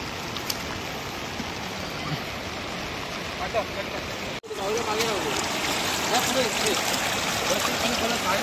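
Steady rushing of a shallow stream being waded across outdoors after rain, a continuous broad wash of water close by, with people talking over it and a brief dropout midway.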